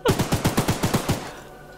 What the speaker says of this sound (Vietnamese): bắn lâu quá là bị nóng các bác ạ